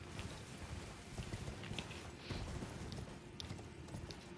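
A horse gallops in the Elden Ring video game, a rapid steady clatter of hooves on a pathway, continuous and even over a dense wash of ambient outdoor game sound.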